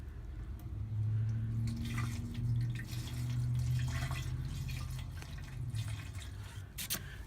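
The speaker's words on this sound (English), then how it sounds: "now I'm gonna put just like a quarter of the vinegar" Vinegar poured into the gas tank of a 2007 Suzuki GZ250 motorcycle trickles and drips faintly against the metal over a low steady hum, with scattered splashy bursts.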